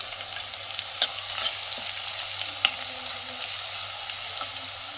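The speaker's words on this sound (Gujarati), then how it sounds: "એના પછી આપણે અદરક લસણની પેસ્ટ નાખશું" Ginger garlic paste fries with onions in a pan, a steady close sizzle with occasional scrapes and taps of a stirring spoon, no voices.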